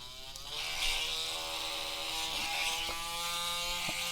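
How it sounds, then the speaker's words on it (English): A power drill whirs steadily as it bores a hole through the carpeted floor of a 1:8 scale Fanhome Batmobile model, a continuous close buzzing with a few small clicks. "I'm going to drill a hole directly through, and it says don't worry about the mic lane carpets, you can drill right through them"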